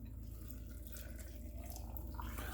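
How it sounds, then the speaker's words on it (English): Brine poured from above into a jar of refrigerator pickles, a steady continuous splashing and trickle of liquid that runs through the whole moment, close up with no talking. "we're just going to pour it over the pickles"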